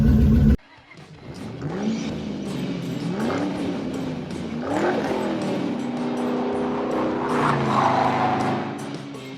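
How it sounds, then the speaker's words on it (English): A 1991 Ford Explorer engine running in a driveway, a loud steady idle with repeated revs that climb and fall, close to the vehicle with no talk. "let me cut this truck off because it's a little loud"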